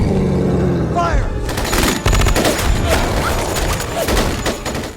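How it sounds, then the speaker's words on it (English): A minigun in a movie scene fires loud, continuous rapid bursts that fill the whole clip, with booms and crashing impacts mixed in, after a shouted voice at the start. "they've given Nemesis a friggin' minigun"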